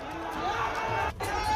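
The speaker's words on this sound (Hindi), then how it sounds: "ये शोरगुल हो हल्ला आप सुन सकते हैं।" Crowd commotion and uproar during a street clash in Patiala, a dense, continuous din of many voices shouting and jostling.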